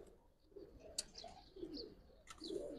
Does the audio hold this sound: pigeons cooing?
yes